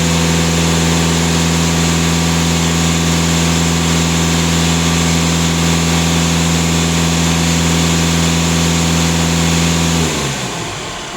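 A steady, close Skoda diesel engine idle with a deep, even hum and no change in pace, which dies away in the last second.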